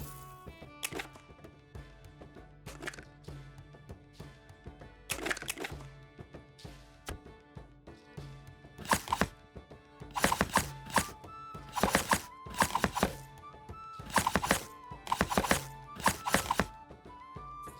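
Chopping food in the video game The Lost Legends of Redwall: Feasts & Friends, a series of sharp knife thwacks on a board, sparse at first and then coming in quick clustered bursts over light music.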